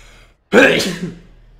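A single sharp sneeze bursts out after a brief silence, loud and close, trailing off into a short breathy tail.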